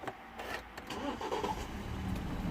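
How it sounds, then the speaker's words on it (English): A BMW 318i E90 with a misfire on cylinder 3 cranks and fires up, settling into a rough idle. The sound is fairly close but quiet, with no talking over it. "It's gonna start it up."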